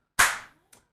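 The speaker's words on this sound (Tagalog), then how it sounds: "Tatlo ang pumalakpak" A couple of sharp hand claps, one loud and a second much fainter, echo briefly in a quiet room.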